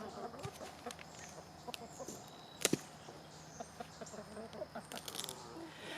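Chickens cluck softly and intermittently at a little distance, with scattered short calls and a brief sharp clatter midway, and no voices.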